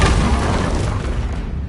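A single booming spell blast from Confringo in Hogwarts Legacy erupts loud and close, then rolls off into a dense, fading rumble with no voices over it.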